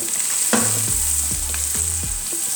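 Turmeric powder is stirred into frying onion and curry, with a loud close sizzle and several quick scraping strokes of a spoon against the pan.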